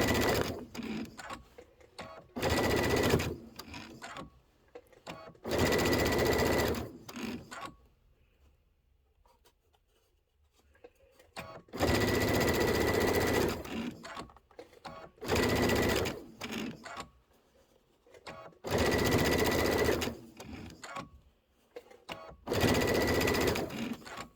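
A sewing machine stitches a Kimberbell Sweet Land of Liberty quilted pillow, running in loud, rapid buzzing bursts of a few seconds each with short quiet pauses between, close by and without speech.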